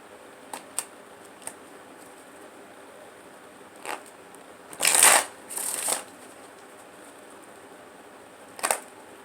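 Tarot cards shuffled in a quiet room during a reading, with a few light taps and flicks, then two loud riffling bursts in the middle and a final short flutter near the end.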